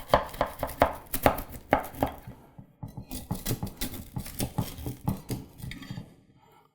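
A knife chops through a large homemade Rice Krispies Peeps treat on a board, making a run of crisp, crackly crunching cuts in quick rhythm, close and fairly loud, with a short pause midway before the cutting resumes.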